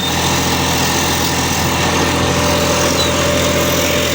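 A homemade vacuum seeder runs in a field while sowing pumpkin seeds, a loud, continuous engine-like drone and whirr that holds steady throughout, with no talking.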